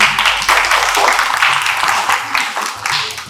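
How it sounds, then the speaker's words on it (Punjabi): A crowd claps for a girl student at Orane International school in Bathinda, Punjab, a dense, steady burst of applause from many hands filling the room, with a few voices mixed in underneath. "ਪਹਿਲਾਂ ਤਾਲੀ ਲਓ ਵੀ ਕੁੜੀ ਲਈ"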